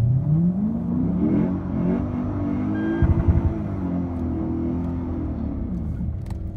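A naturally aspirated V8 Lexus IS F races a supercharged V8 Cadillac CTS-V, giving a loud, rumbling engine drone with rising and falling revs. There is a brief gear-shift flutter midway, and the engine stays close and continuous throughout.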